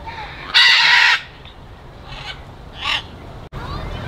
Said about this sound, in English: I see the green winged macaws on the tree, and they're squawking very loud.